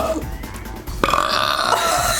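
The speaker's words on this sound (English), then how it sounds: "Teach me how to burp right now." A man's loud burp erupts about halfway through, a long rough belch following a burst of background chatter and noise.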